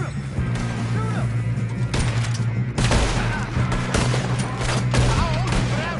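Rapid gunfire bursts from the video game Red Dead Redemption 2, loud and dense over a steady game soundscape, with shots and impacts crowding together for several seconds while voices shout in the background.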